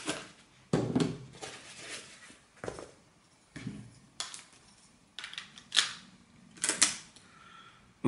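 Camera with flash firing repeatedly while negatives are digitised, giving a series of sharp clicks and snaps at irregular intervals, close and moderately loud, with quiet handling noises between shots.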